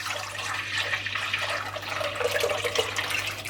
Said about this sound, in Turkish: Karıştırma kabıma sütü aktarıyorum.